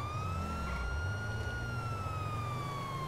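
A police car siren in the video game GTA 5 wails continuously and loudly. Its pitch glides slowly, with engine rumble underneath, and there is no talk.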